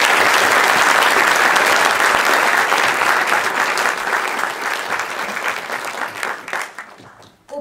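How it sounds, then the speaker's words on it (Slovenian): Sustained audience applause at a karate club's 40th anniversary event in Brežice, a dense, loud crowd clapping steadily before thinning and fading out at the end. "vas vabim, da z aplavzom nagradite že sedaj malce za korajžo tudi vse nastopajoče"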